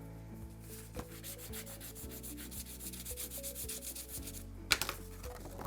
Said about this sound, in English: let's go ahead and burnish it down really good